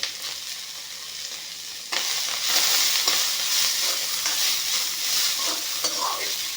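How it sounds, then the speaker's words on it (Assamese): Boiled beans fry in a little olive oil over lowered heat, a soft sizzle that swells suddenly and then holds a steady crackle, with stirring scrapes throughout. "অলিভ অইলেদি ধুনীয়াকৈ বিনখিনি ভাজি ল'ম"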